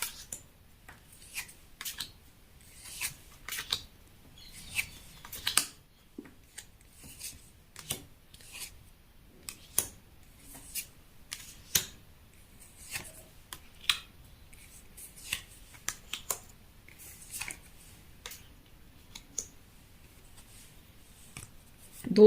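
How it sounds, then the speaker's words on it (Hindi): Tarot cards being shuffled and drawn from a deck, heard as a long run of quiet, crisp card slaps, riffles and sliding rubs with irregular rhythm, close up and alone. "चलिए गाइस, फटाफट कार्ड निकाल लेते हैं"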